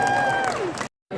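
Concert audience claps and cheers in a loud burst, with a high whistle or whoop over the crowd, before a sharp cut to silence and a brief return of crowd noise.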